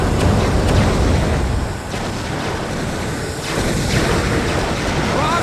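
Laser-guided rockets blasting in the WWE Crush Hour vehicle combat game, a dense, continuous roar of explosions and booming fire that dips briefly in the middle before building again, loud with no voices.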